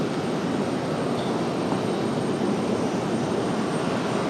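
An Airbus A350 jet departing an airport produces a loud, steady engine roar, a broad continuous rumble that holds level throughout without letting up.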